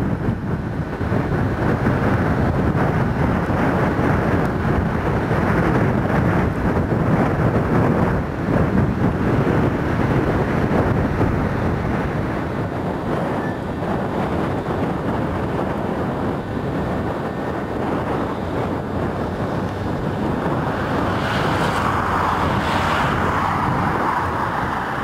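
Strong wind buffets the microphone at Sidegate Lane overlooking Wellingborough, a loud, continuous roar with gusty surges, no voices, and a brief brighter rush toward the end.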